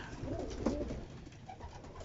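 A pigeon gives a soft, low coo close by, standing out briefly over a muffled background.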